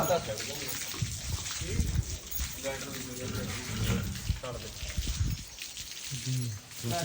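Irrigation water gushes and splashes steadily into a paddy field being puddled with horses, while people talk over it.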